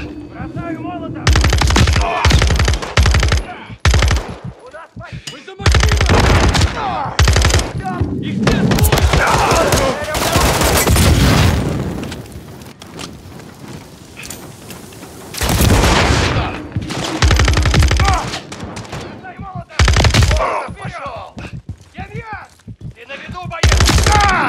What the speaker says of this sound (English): Contact! I've got Makarov! Return fire!